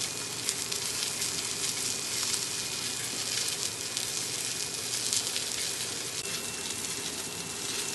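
Braised beef with red wine, mushrooms and onions simmers in a pot, giving a steady soft bubbling and sizzling hiss that holds even and low throughout.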